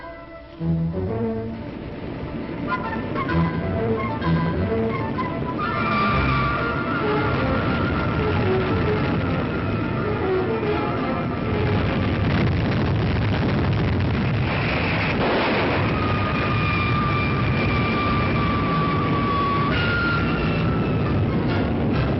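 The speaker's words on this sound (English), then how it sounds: "After a perfect launching, the Titan thunders downrange." A 1959 Titan missile launch, a sustained rumbling roar that thunders on for a long stretch, broad and heavy, with a few faint higher tones drifting through the noise.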